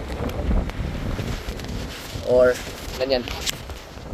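Gusty wind buffets the microphone in low rumbling blasts while people talk nearby.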